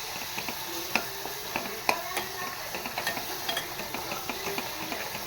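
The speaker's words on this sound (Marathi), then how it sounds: "वाटप घालून घेतलं काही छान तेलावर परतवून घेणार नाही." Ground masala paste sautéing in oil in a pan: a steady soft sizzle with stirring and scattered clinks of a spoon against the metal, close and continuous, with no talking.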